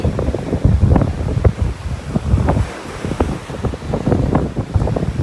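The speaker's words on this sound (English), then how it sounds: "The wind's blowing my camera all around." Strong wind on a beach in North Naples, Florida, buffeting the microphone with a steady, loud, low rumble and gusting roar over faint surf, with no voices.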